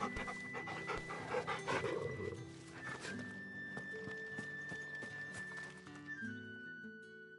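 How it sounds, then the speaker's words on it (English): A dog pants in Final Fantasy 16, quick rhythmic breaths up close for the first couple of seconds, followed by soft game ambience, thuds and a sustained tone. "Hello, doggy. Good boy."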